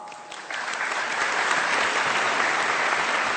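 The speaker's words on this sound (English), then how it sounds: "Let's give them another round of applause." A live audience gives a steady, dense round of applause for performers visiting from Bali, swelling slightly after the first half second and holding strong throughout.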